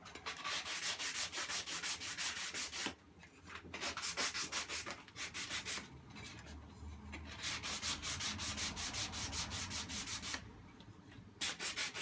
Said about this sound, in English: What I usually do is just a little bit of finishing sanding